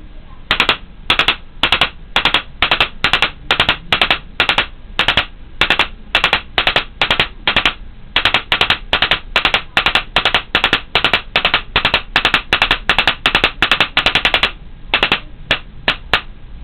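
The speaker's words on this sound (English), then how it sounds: "It's 3 burst." A Spyder paintball marker fires in three-round burst mode, sharp pops coming in quick groups of three, repeated steadily and loudly for the whole stretch, with a brief gap near the end.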